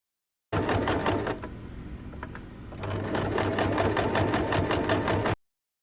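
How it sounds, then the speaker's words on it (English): Close, loud sewing machine top-stitching a seam on a sling bag, running steadily with rapid needle chatter, easing briefly in the middle, then picking back up to full speed before cutting off abruptly. "top stitch the seam allowance 1/2 centimeter from the edge"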